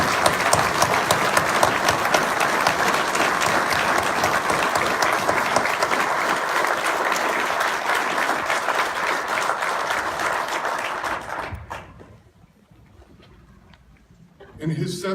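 Sustained applause from a large indoor audience at a Jewish community gathering in Milwaukee, a dense steady roar of many hands clapping for about eleven seconds before fading into quiet room tone, with a brief burst of sound at the end.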